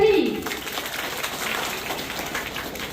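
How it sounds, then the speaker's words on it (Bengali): Applause from an audience at a foundation stone laying ceremony for a new school building, a short burst of dense clapping with a voice heard briefly over its start. "সবাই জোরে হাততালি।"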